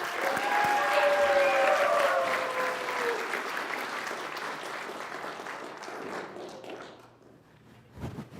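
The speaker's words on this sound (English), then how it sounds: "If you could, with a round of applause, please welcome William Gregory." An audience applauds to welcome a speaker, a loud burst of many clapping hands that slowly thins and fades out over several seconds, ending with a soft thump.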